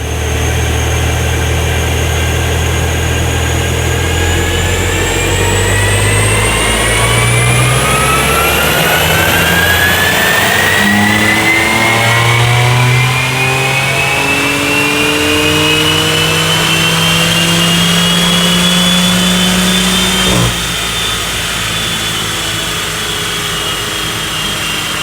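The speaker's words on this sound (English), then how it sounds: "All right, now we're going to do our first baseline test to see what our numbers are." A BMW M4 roars on a dyno during a baseline run, the engine sweeping steadily upward through the gears for about twenty seconds, loud and close, before the revs drop sharply and it settles to a lower drone.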